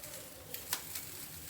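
Peas and coriander paste fry with spices in a pan for kachori stuffing, a soft, steady sizzle with faint crackles and a few light scrapes of stirring, close and fairly quiet.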